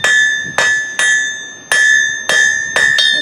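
A blacksmith's hammer strikes hot steel on an anvil while drawing out a taper, giving seven loud, bright, ringing blows at uneven intervals, each chime sustaining until the next strike.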